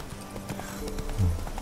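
Hooves clip-clop from a horse in The Witcher 3 video game, a quick rhythmic series of soft thuds over background game ambience, with no speech.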